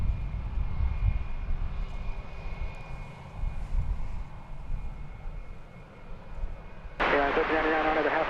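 Airplanes taking off at DFW Airport make a steady, distant engine roar, with radio chatter breaking in near the end.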